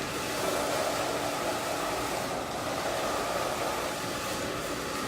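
A twin turbo salon blow dryer roars steadily and close while drying hair after a haircut, a continuous loud airy whoosh with no pauses.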